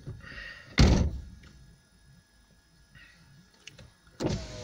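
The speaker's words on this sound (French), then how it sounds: "je vais fermer la porte" Car door shut from inside the cabin, one solid thunk near the start, then quiet with faint movement before a second knock-like bump at the end.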